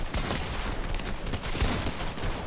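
A pump shotgun fires in the Fortnite video game amid dense, continuous gunfire, with blasts crowding together in a loud, chaotic exchange.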